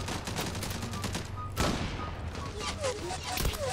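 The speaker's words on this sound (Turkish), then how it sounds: "Son 5 mermiyle 5 kişi vurmam lazım." Gunfire crackles through a Gallipoli (Çanakkale) battle video game scene, with a dense stream of rifle and machine-gun shots forming a steady fusillade and a louder burst near the middle. A voice talks over the shooting throughout.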